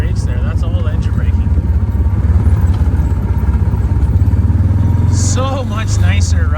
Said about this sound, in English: I'm not even touching the brakes there. That's all engine braking.